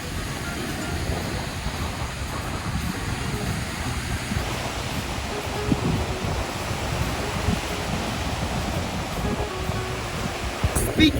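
Waves washing onto a lake beach under a steady breeze, a continuous near roar of surf with wind buffeting the microphone throughout.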